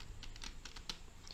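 Soft clicks from a computer keyboard as a Windows command is typed, a quick string of light taps that is faint and close, with no one speaking.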